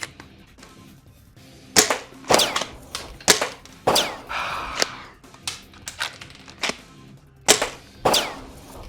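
Sharp cracks ring out from a Nerf WS7 limited edition shell-ejecting spring shotgun firing at targets, a dozen or so irregular close shots and clacks with short pauses between them.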